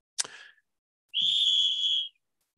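A short, sharp whistle blast rings out loud and alone, following a brief click, in a sports talk radio setting.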